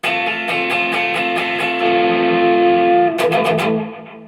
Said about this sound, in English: we're going to really make it dirty in a second with the tube screamer